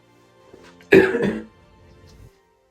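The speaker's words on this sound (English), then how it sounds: "sorry for coughing" A single harsh cough from a person with a chest infection bursts out close to the microphone, followed by a brief throat-clearing rasp, then quiet.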